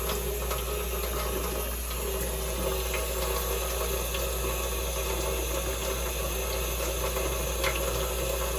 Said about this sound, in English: Always remember to wash your hands before cooking with antibacterial soap.